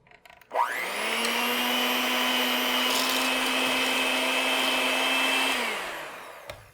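An electric hand mixer beats keto cream puff batter, a steady loud motor whine that spins up, holds evenly for about five seconds, then winds down and stops.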